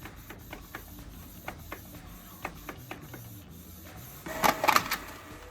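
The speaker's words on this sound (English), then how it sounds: "So I'm now going to print this out" A Canon Pixma MG3650S printer prints onto card, with a steady run of soft mechanical clicks and ticks followed by a louder burst of whirring, rattling feed noise near the end.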